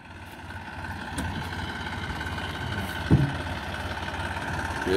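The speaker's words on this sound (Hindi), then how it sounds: "ट्रैक्टर की, क्या शानदार आवाज है।" A Massey Ferguson 245 DI tractor engine pulls a fully loaded trolley with a steady low, even chug that holds throughout, with one brief louder knock near the middle and no talk.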